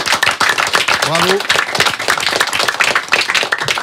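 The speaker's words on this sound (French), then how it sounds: "je crois que vous pouvez vous applaudir" Children clapping for themselves in a classroom or hall, a dense burst of many hands with a short voice rising through it.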